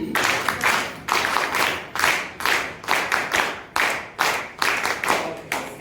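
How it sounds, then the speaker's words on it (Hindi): Children in a classroom workshop clap together in a quick, rhythmic pattern of short bursts and pauses, close and fairly loud, with no talking. "बच्चों बजाओ ताली"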